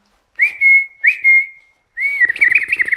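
A person whistles a tune in reply, repeating the same melody: two short clear whistled phrases, a pause, then a longer, more warbling phrase over light background noise.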